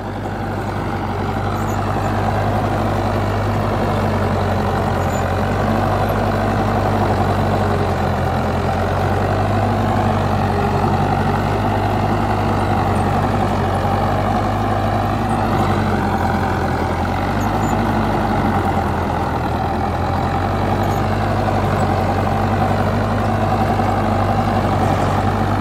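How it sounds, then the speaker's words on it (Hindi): Arjun Novo 605 tractor pulling a seeder in the field, its diesel engine droning loud and steady at working revs, close and continuous with no talk. "भाई ट्रैक्टर को बिल्कुल पता भी नहीं चलता कि पीछे सीडर है या नहीं है"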